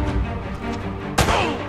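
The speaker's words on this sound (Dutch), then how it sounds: "Ik hoor dat mensen schieten van alle kanten." Gunfire in the video game Uncharted: Drake's Fortune, loud continuous rumbling battle noise with a sharp shot burst near the end.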